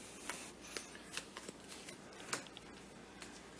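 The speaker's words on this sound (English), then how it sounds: "So these would then be shuffled." Game cards for the Warhammer Age of Sigmar board game Gorechosen being shuffled up close, a quiet series of crisp riffling snaps and soft slides in uneven bursts, with no talk.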